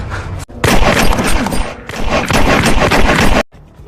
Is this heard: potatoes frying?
no